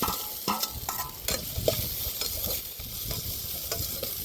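Onions with cumin and dried red chillies sizzle steadily in hot oil, with scattered clinks and scraping of a utensil stirring the pan.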